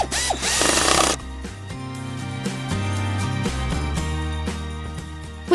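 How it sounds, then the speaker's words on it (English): Power drill loosening bolts on a small tractor-style machine during repair, a loud close whirring and grinding run after a burst of harsh noise at the start, continuous and mechanical. "That is the power drill, loosening the bolts."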